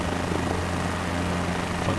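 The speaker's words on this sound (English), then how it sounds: "Still fun to fly around a helicopter." Helicopter flying in the Microsoft Flight Simulator video game, a steady droning rotor and engine hum with low throbbing tones, continuous and fairly loud without talk.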